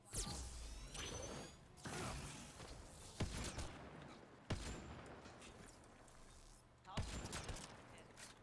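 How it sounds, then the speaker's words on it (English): Bursts of gunfire and weapon effects from the video game Mass Effect: Andromeda crackle in repeated volleys, each broken by sharp impacts and whooshes, in a fairly quiet mix. "You hear a lot of gunfire happening over at that remnant site as well."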